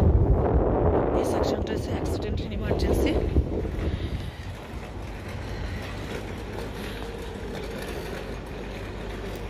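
Strong wind blows outdoors beside a large hospital. It buffets the microphone hard for the first few seconds, then settles into a steadier rush while a person keeps talking over it.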